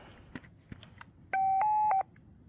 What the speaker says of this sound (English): That noise that you're hearing is the modem online